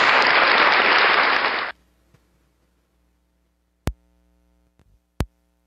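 A short burst of dense clapping from a church congregation, loud and close, cuts off abruptly after under two seconds, followed by near silence broken by two sharp thumps.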